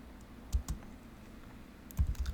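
Short bursts of computer keyboard typing, two quick clusters of key clicks separated by a pause, faint and close in a quiet room.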